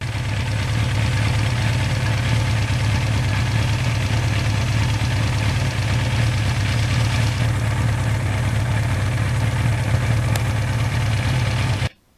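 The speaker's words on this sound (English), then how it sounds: "this engine is one of the ones that's an icon in the world of motorcycling." A 1982 Suzuki GS1100E four-cylinder motorcycle with 73,000 miles idles steadily, a close, loud, even rumble with a low throb, cut off abruptly at the end.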